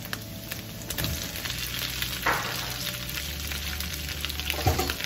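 Radish cakes frying in a pan with a little oil, a steady close sizzle with occasional louder crackles and spatters as pieces are moved.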